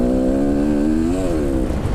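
A 450 four-stroke enduro dirt bike engine revs close and loud with a throaty, buzzing drone, its pitch dipping and rising slightly as the rider works the throttle on a trail in Wales.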